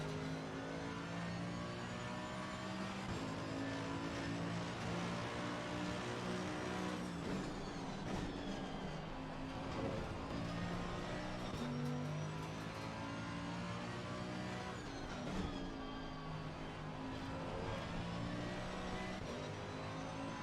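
Race car in a racing sim at Zolder, engine held at full throttle with a loud buzzing drone that climbs and drops through several gear changes, close and continuous for the whole stretch.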